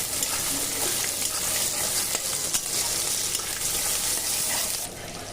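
Chopped onions sizzle and crackle steadily in hot oil for a mutton curry, a continuous close frying hiss that drops off just before the end.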